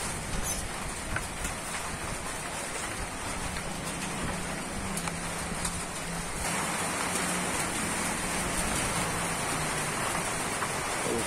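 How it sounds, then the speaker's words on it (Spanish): Heavy rain pours steadily over the south of the city in Siloé, a dense, continuous hiss with no break. Cable car cabins keep running through the downpour, and a faint low rumble sits under the rain. "llueve fuertemente acá en el sur de la ciudad, en Siloé"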